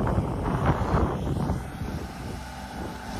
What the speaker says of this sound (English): and it's windy as hell